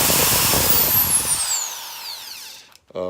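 A Makita 9mm file sander running on soft timber, a loud whirring motor that winds down with a falling whine and then stops, followed by a brief clatter.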